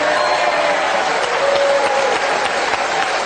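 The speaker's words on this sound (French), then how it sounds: "Applaudi par le Canada, applaudi par tout le monde." A game show studio audience breaks into loud, dense, steady applause that fills the whole stretch without a break.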